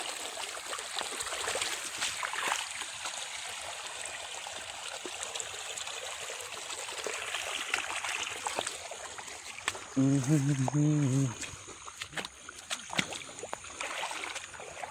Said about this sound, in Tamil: நான் சொல்லியிருந்தேன் இந்த இடத்துல வேறு தண்ணி ஓடுது